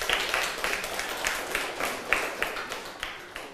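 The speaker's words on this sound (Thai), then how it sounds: "ปรบมือให้เพื่อนหน่อย" Schoolchildren in a Thai primary classroom clap for a classmate, giving a steady run of light, fairly even handclaps for a few seconds.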